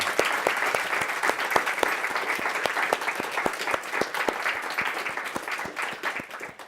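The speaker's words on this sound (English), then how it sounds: "Can we all give Cody a round of applause?" A university entrepreneurship society audience breaks into steady, dense applause after a Q&A, the many claps carrying evenly through the hall with little talk.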